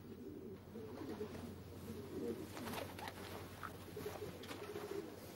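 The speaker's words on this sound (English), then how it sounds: "A pigeon flew into the loft." A pigeon coos in a loft, soft throaty calls repeating at a moderate distance over a steady low background hum.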